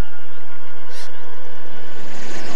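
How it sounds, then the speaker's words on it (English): A cartoon alien siren sounds as a steady, loud, sustained electronic tone with a short bright burst near the middle, heard alone with no talking. "That's the siren for aliens."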